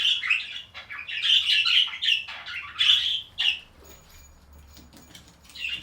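Budgies chirp and tweet busily in an aviary, a run of bright, rapid calls from several birds that comes in overlapping bursts, then thins to a few scattered chirps over a low background hum.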